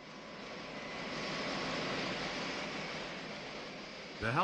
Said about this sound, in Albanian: Helikopterët SH-53 mund të dislokojnë në bordin e luftanjeve